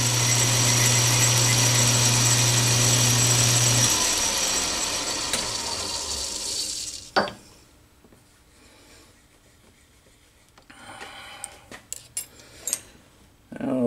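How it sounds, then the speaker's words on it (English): A small lathe turns while a cutter chamfers the edge of a tiny brass oil cup for a Stuart S50 steam engine, giving a steady machine hum that cuts off midway, followed by quiet clicks and light metallic taps. "Now I'm going to go in and just cut a little bit of a chamfer on the edge,"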